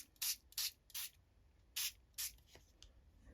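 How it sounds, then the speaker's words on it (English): Five quick bursts of water from a spray bottle, close and crisp, in an uneven rhythm with short pauses between squirts. "Spray some water."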